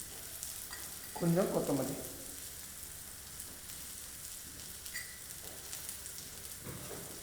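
Mustard seeds and curry leaves sauté lightly on a tawa, a faint crackling sizzle running throughout while a voice briefly speaks over it.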